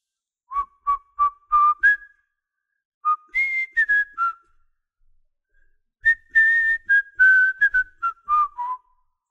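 Someone whistles a short, wavering tune in several phrases with pauses between, close by and fairly clear, with no talking.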